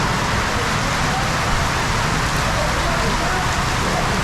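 Hard rain drumming steadily on a roadway in Pakistan, a loud continuous wash of droplets with a low rumble of passing vehicles beneath.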